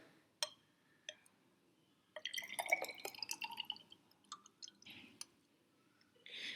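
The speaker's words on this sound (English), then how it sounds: "so now we are going to add more water inside." Water being added to calcium hydroxide powder in laboratory glassware to make lime water, with a few sharp isolated drips and clinks, then a burst of pouring and splashing with bright glassy tinkles, tapering to scattered drips.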